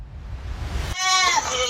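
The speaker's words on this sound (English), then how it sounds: "a group of farmers woke up to the sound of their goats crying loudly" Goats on a farm at night cry loudly, a sudden harsh wavering bleat that starts abruptly after a low rumbling lead-in and holds for nearly a second.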